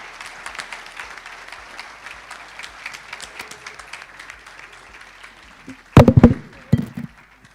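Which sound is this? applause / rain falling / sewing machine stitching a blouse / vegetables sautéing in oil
applause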